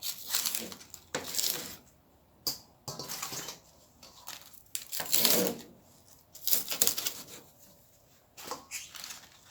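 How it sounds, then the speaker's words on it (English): A knife chops through vegetable leaves and stems on a board, producing a series of irregular crisp cuts and taps close by, clustered in short bursts with brief pauses between them. "I cut up all these together"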